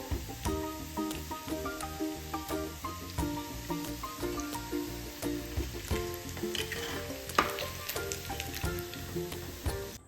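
Tuna pieces sizzle and fry steadily in a pan for a homemade tuna pickle, a continuous crackling hiss sitting beneath prominent background music throughout.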